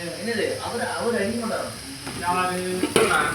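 Biryani ingredients fry in a pan with a steady close sizzle and occasional stirring scrapes, while people talk over the cooking.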